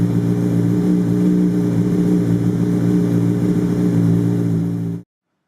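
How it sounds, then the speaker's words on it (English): Honda CBR600RR sport motorcycle engine idling steadily after a coolant flush, a close, constant low hum with a faint high whine, holding even for five seconds before cutting off abruptly. "Start the engine and let it idle for 2 to 3 minutes."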